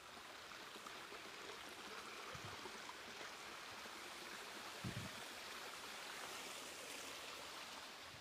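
A mountain stream and small waterfalls rush steadily beside a hiking trail, a constant broadband wash of flowing water with a couple of faint low thumps, no voices.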